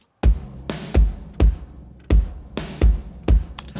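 A drum kit fed through a parallel compression bus with a DBX 160 compressor, kick and snare hits sounding squashed and sustained, with a dense, even groove played loud and close.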